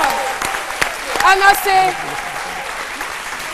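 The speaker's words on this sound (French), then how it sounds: "Je voudrais qu'on l'applaudisse." Audience applause, the crowd called to stand and clap loudly, a dense steady patter of clapping that runs the whole way through while someone speaks over it.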